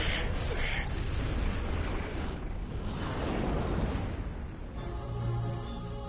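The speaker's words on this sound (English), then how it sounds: "Oh, an explosion." A fiery explosion in the action game Final Fantasy 16, a loud, sustained rumbling blast that fills the whole stretch with dense roaring noise, fading toward a lower tonal rumble near the end.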